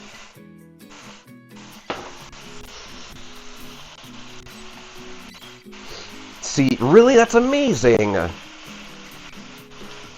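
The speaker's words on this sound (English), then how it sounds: "I also gotta wonder if you guys can hear the sizzle from the pan." Beef for one-pan banh mi-style tacos sizzles steadily in a pan, a continuous hiss that swells from a quiet start, while a voice speaks over it partway through.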